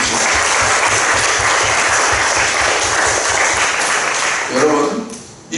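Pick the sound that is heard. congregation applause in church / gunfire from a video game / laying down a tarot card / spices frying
congregation applause in church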